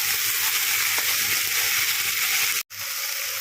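Fish-head and bottle gourd curry with ground spice paste stirred in a pan, a steady loud sizzle and hiss with soft scraping throughout, broken by a brief cut near the end.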